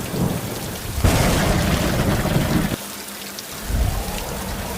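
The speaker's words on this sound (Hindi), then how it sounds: "जोर जोर से बिजली चमक रही थी, बादल गरज रहे थे और तेज बारिश हो रही थी।" Heavy rain pours steadily while deep rolls of thunder rumble loudly, surging and fading over several seconds.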